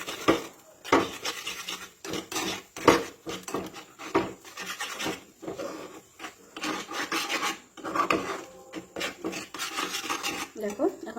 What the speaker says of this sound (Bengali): যতক্ষণ একটু ঝুরঝুরা টাইপের হবে ততক্ষণ আমি গ্যাসটা অন রেখে নাড়তে থাকবো